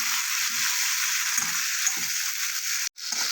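Sliced flat beans fry lightly in oil with a pinch of turmeric, giving a continuous close sizzle broken by a few soft stirring scrapes and one brief dropout near the end.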